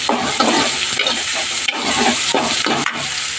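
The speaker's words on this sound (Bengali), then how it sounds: "কড়াইতে তেল দিয়েছি ওর মধ্যে রাঁধুনি ফোড়ন দিয়ে শুকনো লঙ্কা ফোড়ন দিয়ে আর পেঁয়াজ আর রসুনটা দেখো দিয়ে দিয়েছি একটু ভেজে নেব" Onion and garlic frying with dry red chili and radhuni seeds in hot oil in a wok, a loud, dense, continuous sizzle with rhythmic scraping stirs heard up close and no voices.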